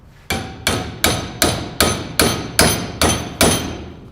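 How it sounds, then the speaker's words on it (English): A hammer strikes a welded metal piece clamped in a vise, nine sharp, ringing metallic blows at an even, steady pace, close and loud with no talking. "Let's clamp it into a vise and smack it with a hammer and see how it holds up."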